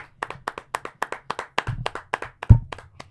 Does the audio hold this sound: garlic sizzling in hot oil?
no